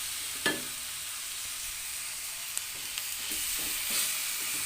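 Quiet, steady sizzle of chicken frying in a pan, with occasional scrapes and clinks of a utensil stirring it.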